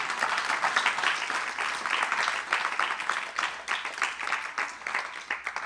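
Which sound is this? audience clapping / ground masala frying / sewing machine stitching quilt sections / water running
audience clapping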